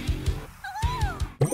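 A beloved little kitten gives a clear, rising-and-falling meow close by, in a classroom with steady rhythmic thumping behind it.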